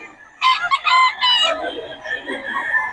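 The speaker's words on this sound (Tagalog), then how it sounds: "Diyan na pala manok si Boss Perry." A rooster crows loudly and close by, followed by softer clucking from chickens, in a short outdoor moment with faint background noise.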